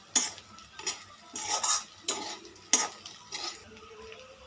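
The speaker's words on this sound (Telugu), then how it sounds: "ఇప్పుడు ఇందులోకి మనం ముందుగా రెడీ చేసి పెట్టుకున్న ఎండుమిర్చి కొబ్బరి ఇంకా వెల్లుల్లి పౌడర్ని యాడ్ చేసుకోవాలి యాడ్ చేసుకొని దీన్ని బాగా మిక్స్ చేసుకోవాలి" A spoon stirs cluster beans frying in oil with a dry chilli, coconut and garlic powder, making a regular run of scraping sweeps against the pan over a light sizzle. No voices.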